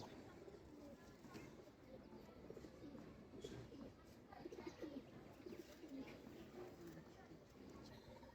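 Pigeons on a rooftop coo in soft, repeated low, throaty calls with a few chirps, heard nearby under a person's talking voice.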